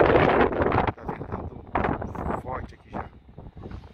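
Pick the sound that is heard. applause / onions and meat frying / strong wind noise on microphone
strong wind noise on microphone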